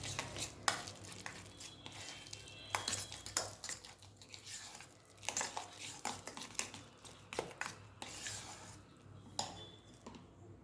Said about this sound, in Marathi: सुरुवातीला हे चांगलं घोटून घ्यायचं आहे पळीनेच